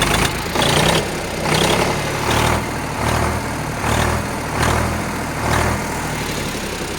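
A tractor engine idles steadily after starting, with a continuous low rumble and regular throbbing pulses roughly every second. It stays close and loud throughout, with no voices.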